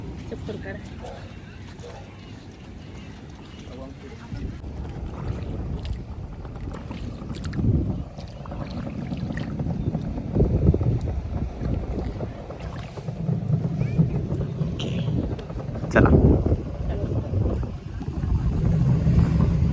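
Boat ride on open water on a family outing: wind buffets the microphone and water churns along the hull, with people chatting throughout and occasional louder splashes and thumps.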